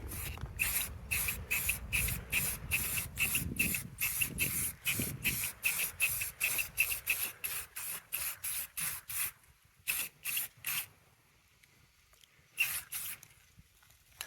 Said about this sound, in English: Now I'm going to go back over it with a black spray paint.